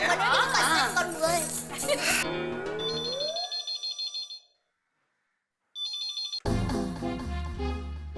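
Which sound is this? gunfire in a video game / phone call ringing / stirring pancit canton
phone call ringing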